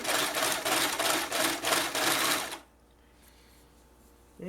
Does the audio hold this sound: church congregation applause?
no